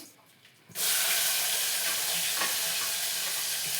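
A quiet moment, then ground paste dropped into hot oil already holding curry leaves erupts into a loud, sustained hiss and sizzle that holds steady to the end; no talking.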